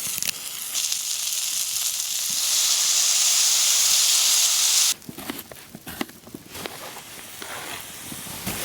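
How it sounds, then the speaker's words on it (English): Wine poured into a hot stew pot to deglaze it gives a loud, steady hiss and sizzle that lasts about five seconds, then falls to a quieter crackle with small clinks. "And now we're gonna add a little wine to deglaze the pot."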